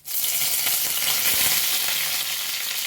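Curry leaves and banana flower for a banana-stem and prawn thoran sizzle steadily in hot oil in a pan. The loud, continuous frying hiss holds for about three seconds with faint stirring underneath.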